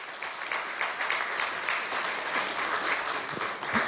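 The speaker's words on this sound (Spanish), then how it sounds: "un aplauso para Walter Martínez" Steady applause from a crowd, continuous and moderately loud throughout, with no speech over it.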